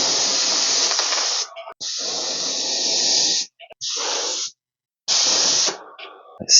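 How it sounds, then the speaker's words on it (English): Loud hissing bursts from an aerosol spray can painting the letters of a 3D subscribe sign, four sustained sprays of a second or more separated by short silences. "On the letters, I'm using an aerosol can"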